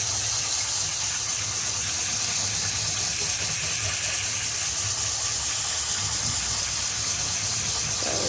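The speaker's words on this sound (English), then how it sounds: "you're gonna rinse it for a while until the water is clear and not white" Tap water runs steadily over rice being rinsed in a kitchen, a constant close hissing gush with no pauses and no speech.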